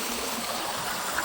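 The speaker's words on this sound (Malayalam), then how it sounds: "ഈ ചാലിലൂടെയാണ് ഈ വെള്ളം പോകുന്നത്." Pumped wastewater from a granite quarry rushes through a channel, a steady broadband gushing flow that stays even and moderately loud throughout.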